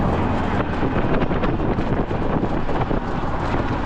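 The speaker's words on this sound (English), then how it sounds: "I feel the wind already, it's so windy." Strong wind roaring and buffeting against the microphone, a dense continuous rumble with gusty swells throughout.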